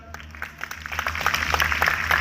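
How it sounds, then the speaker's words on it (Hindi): Audience applause builds at a Bigg Boss OTT 3 grand launch stage event, scattered claps growing into steady clapping from a studio crowd, moderately loud, with a voice briefly heard. "जरा मुंह में फंसाओ और ताली बजाओ एक बार जोरदार"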